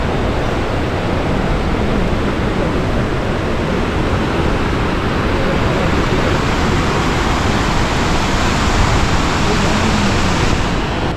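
Cascades on the Petrohue river near Puerto Varas, Chile, give a loud, unbroken broadband rush of falling water that holds steady throughout with no voices.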